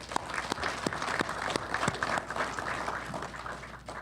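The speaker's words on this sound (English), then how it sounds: "I think they deserve a round of applause" An audience at a spring electrical lineworker graduation ceremony gives a round of applause for faculty and staff, with sharp individual claps over a steady, moderately distant clapping wash.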